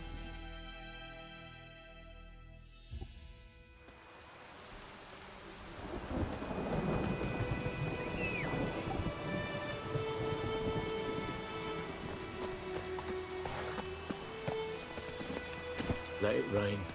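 Rain and rolling thunder in the video game Witcher 3, a steady wash of rainfall with thunder swelling from about four seconds on, continuous and full after a quieter musical opening.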